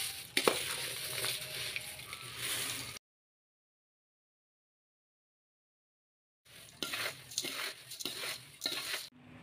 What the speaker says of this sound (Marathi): सगळी पापडी आपण आता अशा प्रकारे तळून घेऊया.